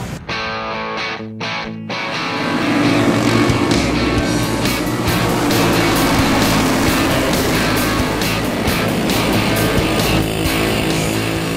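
A race car engine roars loud and sustained on a dirt track, a distorted continuous drone after a short quieter start, with no talk over it.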